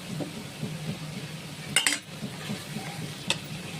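Catla fish kalia being stirred in a pan with ghee: a low simmering sizzle with soft spatula scrapes and a couple of sharper metallic clinks against the pot, close up.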